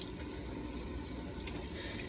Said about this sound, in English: Next, we're going to rinse everything off.